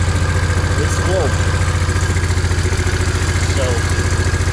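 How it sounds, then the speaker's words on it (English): A cold Honda VTX1800 motorcycle engine idles right after its first start of the season, a steady close-up rumble with a fast, even pulse; a voice briefly sounds over it. "the engine is cold, so it starts quite okay"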